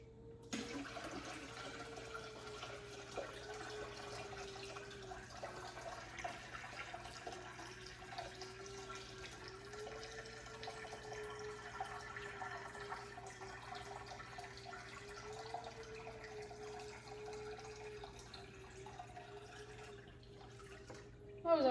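A bucket of water is poured into a cichlid aquarium, a steady splashing rush of liquid that continues evenly for about twenty seconds at moderate distance under a low hum.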